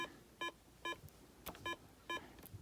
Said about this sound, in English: Make sure you hear the beep.